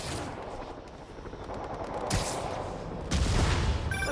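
Sustained gunfire erupts around a rooftop outpost in Spider-Man Remastered, a dense rattle of automatic shots that swells in two louder waves over distant battle noise.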